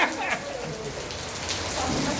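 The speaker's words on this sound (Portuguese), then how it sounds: "É bom que hoje nós vamos estudar com chuva" Steady rain pours down in a continuous wide hiss that fills the whole stretch, heard indoors during a Bible study class, with no talking over it.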